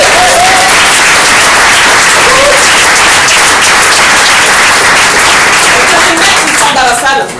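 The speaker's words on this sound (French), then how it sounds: "je vous propose d'accueillir maintenant Émilie avec un maximum d'applaudissements s'il vous plaît." A full comedy-club audience at an open-mic night at Le comptoir du rire bursts into loud, sustained applause that stays dense and steady throughout, with a few voices calling out near the end.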